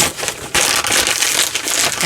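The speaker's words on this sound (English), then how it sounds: "So I'm going to peel the outside edges until I get where I want to fold it" Paper being peeled back along its outside edges while making a giant mixed-media envelope, heard up close as loud, continuous crinkling and tearing rustles that surge in uneven waves.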